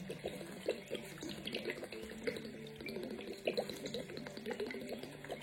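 A large bottle of Roman verbena liquid is emptied out in one steady pour for a traditional soap preparation, giving a continuous close trickle and splash with small irregular gurgles and no talking.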